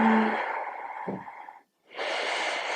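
A long audible exhale during a yoga pose, close and breathy, followed after a brief silence by another airy breath.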